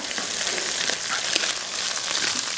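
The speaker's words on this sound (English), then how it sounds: "I'm going to get that frying just a little bit." Roasted, peeled Hatch green chile sizzles steadily in a hot pan, a dense, even frying crackle that holds close and loud throughout with no voices.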